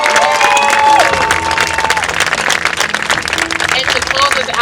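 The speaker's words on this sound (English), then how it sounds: "Let's give our graduates one more round of applause." An audience at a firefighter training program graduation ceremony breaks into loud, sustained applause and cheering that fills the hall, with some voices beneath and a tone or siren-like line sliding through at the start.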